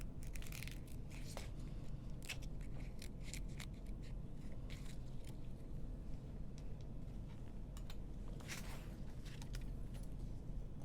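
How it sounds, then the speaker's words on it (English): Sharp scissors cut through lining fabric while a tote bag is being sewn, making faint, irregular snips and soft scraping sounds close by over a quiet background, with no one talking. "This is why I love having nice sharp scissors."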